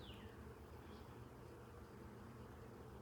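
Honey bees buzzing in a beehive, a steady, faint, continuous hum lasting throughout with no pauses.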